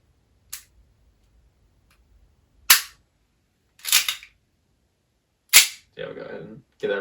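An EMG SAI 2011 DS airsoft pistol fires four sharp, close shots spaced a second or two apart, with a short mechanical rattle between the last two.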